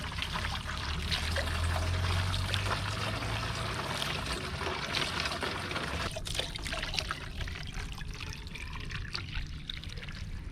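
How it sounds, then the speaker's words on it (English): Water pours and trickles steadily into a sample bottle during water sample collection, a continuous close splashing stream with no speech over it. "we fill it up with the water, and then we rinse the inside of the bottle."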